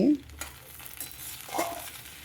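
Okra stir-fried in a pan at home, with a soft sizzle under a few scraping strokes of a spatula, quiet and close, with a brief faint voice at the start.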